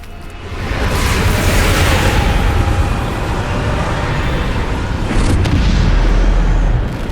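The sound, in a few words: Bombarda blasting spell explosion from Hogwarts Legacy video game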